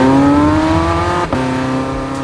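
A Porsche hybrid sports car in hot-lap mode with top-exit exhaust pipes and a 7-speed dual-clutch gearbox revs loud and close, its pitch climbing steadily, broken by one quick gear change before it pulls on.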